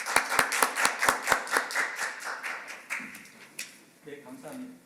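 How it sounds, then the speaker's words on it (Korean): Clapping at a panel discussion forum on China as the moderator takes the microphone: a handful of sharp, close, rhythmic claps at first, thinning into scattered softer clapping, with a voice starting to speak near the end. "큰 박수로 맞아주시기 바랍니다."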